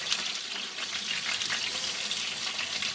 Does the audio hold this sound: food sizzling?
yes